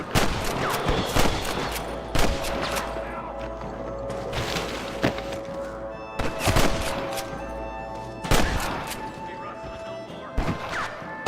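Repeated gunshots in a Red Dead Redemption shootout: sharp, loud cracks at irregular intervals over a dense bed of game sound and music, with occasional heavier impacts.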